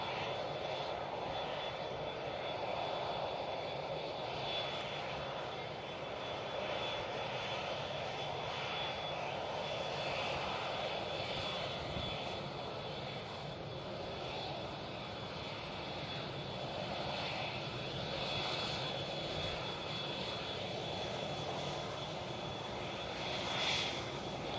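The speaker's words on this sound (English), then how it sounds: "Emirates A380 now coming down Tango." An Emirates Airbus A380 taxis at Manchester Airport on its way back to Dubai, its jet engines giving a continuous, moderately distant hum that stays level the whole time.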